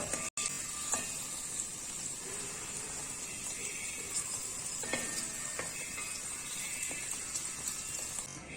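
Okra frying over a low flame in coconut oil, a steady close crackling sizzle with faint stirring scrapes and clicks, and no talking.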